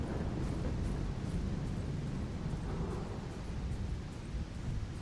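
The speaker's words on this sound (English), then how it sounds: "I didn't realize the lightning was quite so insistent on being heard." Thunder from lightning in the video game Voin gives a dense, sustained low rumble. It rolls continuously and loudly for several seconds with no talking.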